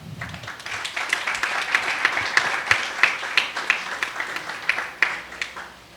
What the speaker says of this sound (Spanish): recibamos con un fuerte aplauso a Priscila Chávez